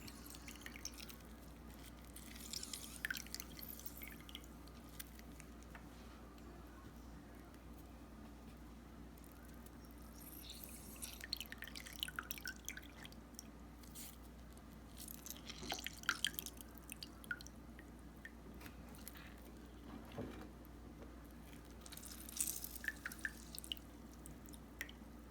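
Juice from one lemon is squeezed and drips down in a quiet, uneven run of small drips and wet squishes over a low background hum, faint and close.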